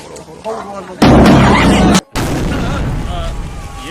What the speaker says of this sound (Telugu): పర్లేదు కాగితం బాంబే